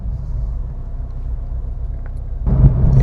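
Low steady road rumble from a 16-year-old Honda rolling on a rougher road surface, droning evenly and then swelling louder near the end.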